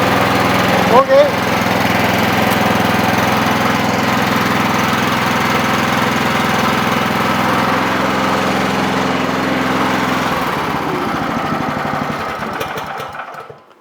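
Mini excavator engine chugging steadily through a hydraulic function test, a loud close diesel drone that holds for most of the stretch before easing off near the end, with a brief clank early on and a voice in the background.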